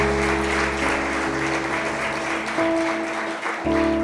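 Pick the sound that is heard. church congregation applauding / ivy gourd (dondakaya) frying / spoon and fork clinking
church congregation applauding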